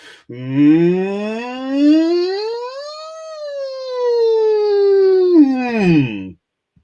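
A person's voice imitates a siren, a long wailing tone rising, holding high, then sliding back down, loud and close, with a breath at the start.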